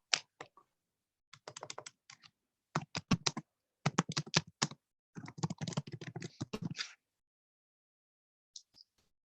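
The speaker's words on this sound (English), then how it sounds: "I can hear that typing." Computer keyboard keys clattering in quick bursts of typing, fairly close, with short pauses between runs and a brief tap near the end, alone with no talk.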